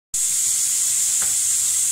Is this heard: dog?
no